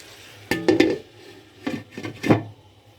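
A lid goes onto a pot of chicken tikka karahi simmering with vegetables and masala, giving a few close metallic clatters and knocks in short bursts with quiet gaps between.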